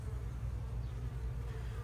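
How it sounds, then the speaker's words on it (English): Honeybees buzzing inside a hive during a waggle dance, a dense, steady, close hum that holds at an even level throughout with no voices. "look at this bee dancing in a video that I took in a hive last year"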